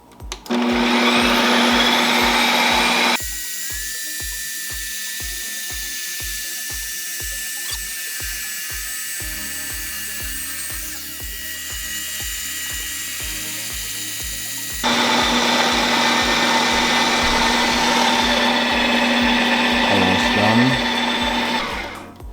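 A loud motorized whirring drone from a Ninja Creami ice cream maker spinning, with a steady rhythmic clicking pulse, dropping in intensity midway then rising again near the end.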